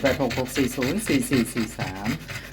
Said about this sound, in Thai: น้องมีปัญหาเรื่องระบบทางเดินหายใจด้วยนะ ก็เลยหายใจแรง